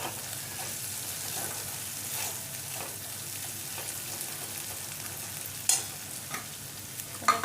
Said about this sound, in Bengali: মশলাটাকে খুব ভালো করে আমার ভাজতে হবে